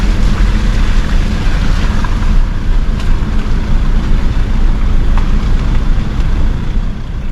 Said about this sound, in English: Some pretty big crashing waves up there.